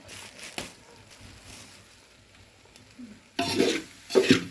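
Village-style country chicken masala is cooking in a pan as homemade red chili powder is stirred in. Quiet scraping and faint sizzle give way to two loud bursts of frying hiss and stirring near the end.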